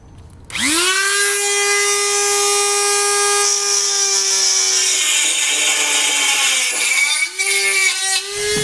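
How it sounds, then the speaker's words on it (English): An angle grinder with a small cutoff wheel spinning up and slicing through a section of a 2020 Honda Civic bumper fascia, a loud, close, sustained high whine that dips briefly near the end. "We'll now take a grinder, and we need to cut out a section here,"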